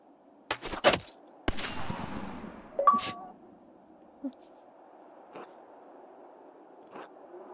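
Gunshots in the video game Pentiment: a few sharp broadband cracks early on, the loudest pair close together, then fainter clicks and scrapes in a quiet room-tone background with no talk.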